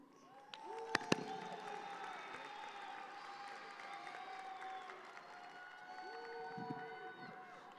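A graduation crowd at the Cimarron-Memorial High School Class of 2025 ceremony applauds the principal, with steady, dense clapping and scattered whoops and cheers across the hall, plus a couple of sharp louder claps near the start.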